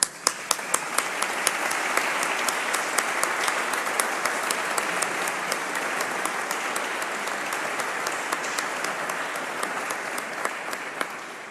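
Long, steady applause from an audience thanking an event organizer, José Antonio Ruiz Vivo, with many hands clapping, a few sharp, distinct claps standing out near the start, and a full, even roar for the whole stretch without talk.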